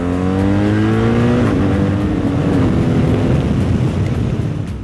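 A BMW R1300GS motorcycle engine roars loud and close, holding high revs and then sliding down through a downshift, the gearbox blips blending into a steady mechanical howl with no voices.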